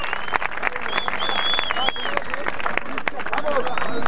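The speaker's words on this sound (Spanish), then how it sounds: "un fuerte aplauso para estos cuatro cabrones." Crowd applause at a two-on-two rap battle event, loud continuous clapping with scattered shouts and cheers from the audience filling the whole stretch.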